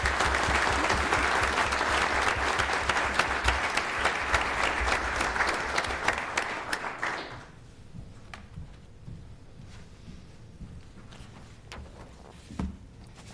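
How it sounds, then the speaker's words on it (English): Audience applause for student athletes at a city council meeting, loud and sustained clapping from a crowd for about seven seconds before fading out to quiet room tone. "let's give all these student athletes a round of applause"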